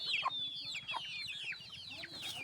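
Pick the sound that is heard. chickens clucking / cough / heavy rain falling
chickens clucking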